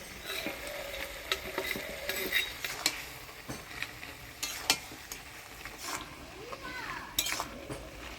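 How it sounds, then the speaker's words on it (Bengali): Fried fish heads being stirred into a spinach curry in a pan, frequent scraping and clinking of a spoon against the pan over a low sizzle, fairly quiet and close. "মাছের মুড়াগুলো দিয়ে ভালো করে নাড়াচাড়া করে নিলাম"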